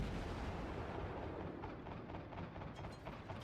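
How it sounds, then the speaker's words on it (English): Anti-aircraft guns on a warship in the World of Warships naval combat game keep up dense, rapid bursts of firing, a continuous rumbling barrage with sharp pops layered on top, loud and close. "And you can hear my anti-aircraft guns going off,"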